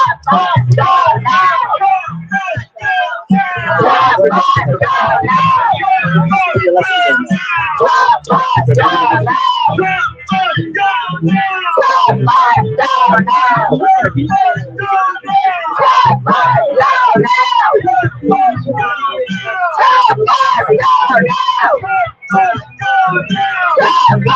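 A protest rally crowd in Washington DC, loud and close, with many voices yelling and shouting in dense overlapping bursts that carry on without pause.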